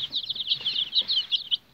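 Chicks and poultry of mixed breeds (Cochin, bantam Cochin, Brahma) chirp and peep continuously in a farmyard, a steady high twittering chorus with soft rustling beneath, close and moderately loud.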